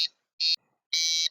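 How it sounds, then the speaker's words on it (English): Fire alarm emulated by an MSP432 microcontroller system, sounding as shrill electronic beeps: a short tone, another short beep, then a longer sustained one, loud and alone. "Now you hear a fire alarm through the system"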